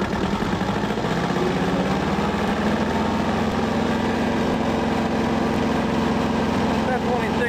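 A car engine runs loud and steady as it is brought up from a sub-1,000 RPM idle toward about 2,500 RPM, a constant droning rumble with a faint high whine above it.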